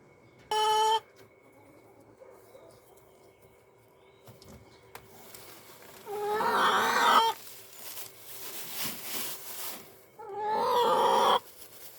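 Hens in a backyard chicken pen give a few clucking, squawking calls in three separate bursts, fairly close and loud, with quieter rustling between them and no talk.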